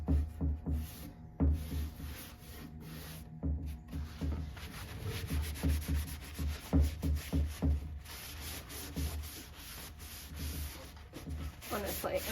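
Dark wax rubbed by hand onto a painted cabinet finished in Annie Sloan chalk paint, heard as soft repeated rubbing strokes in a steady rhythm, close and fairly quiet.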